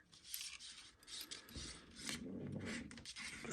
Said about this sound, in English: I'm going to just tighten this up a minute.